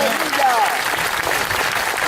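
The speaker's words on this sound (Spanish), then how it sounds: "regálale un fuerte aplauso al Señor" A church congregation gives a strong round of applause to the Lord, a steady dense wash of clapping throughout with a brief voice rising over it near the start.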